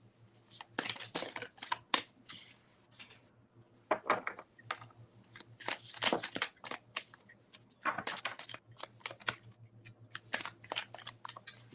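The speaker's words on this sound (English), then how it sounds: "Still shuffling." Long Man Tarot cards being shuffled by hand, a run of crisp riffling and slapping bursts that come in uneven clusters, close and fairly quiet, with no talking.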